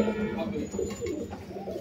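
Soft, low cooing from fancy pigeons, including Omani and KTM breeds, repeats in short throaty phrases, close by, with a faint background murmur and a thin high tone running through.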